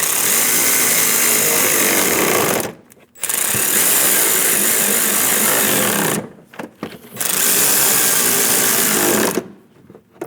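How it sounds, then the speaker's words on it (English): Power tool snugging down the bolts on the side of an engine shroud on a 2003-2025 Chevrolet Express 2500, running in three loud sustained bursts of whirring with brief pauses between them. "Snug down the bolts."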